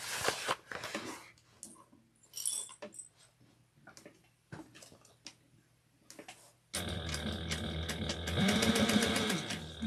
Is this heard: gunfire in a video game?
no